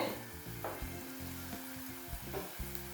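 Spices sauté in a pan with steady sizzling and frying, a continuous hiss with occasional stirring scrapes, close and moderately loud, no voices.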